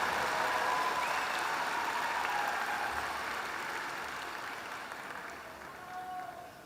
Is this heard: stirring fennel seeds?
no